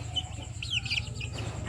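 One-month-old chicks peep in quick high chirps amid a flock of chickens, fairly faint over a steady low background hum.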